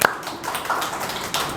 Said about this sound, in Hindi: तो उसके लिए तालियां बजाएंगे।